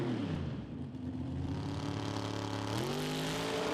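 A drag racing car with a 740 cubic inch three-stage nitrous engine launches at Santa Pod, a loud continuous roar with a rising pitch and a sharp upshift near the end, heard alone.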